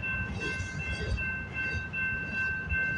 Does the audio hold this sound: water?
no